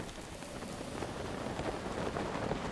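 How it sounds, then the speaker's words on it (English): Steady rain falls across the landscape in the video game The Legend of Zelda: Breath of the Wild, a dense, even hiss of drops on surfaces that holds at one level throughout, with no voices. "Also, I need for it to stop raining."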